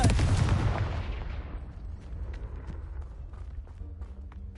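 A Confringo fire spell from the Hogwarts Legacy video game bursts with a loud explosive blast that decays over a couple of seconds into a rumbling tail, with faint crackles and small impacts scattered after.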